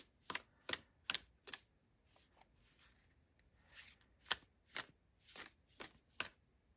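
A deck of oracle cards is shuffled by hand, the riffles coming in quick, crisp bursts: four at the start, a softer shuffling stretch in the middle, then five more sharp bursts near the end, close and clear with no talking.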